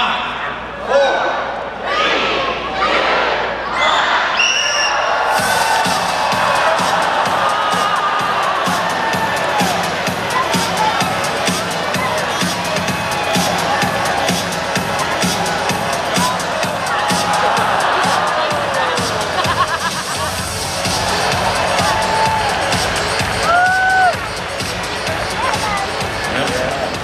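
Loud crowd cheering and whooping at a Superdogs dog run at the PNE Fair in Vancouver, a dense sustained roar that follows a short countdown and carries on for the rest of the run, with voices calling out within it.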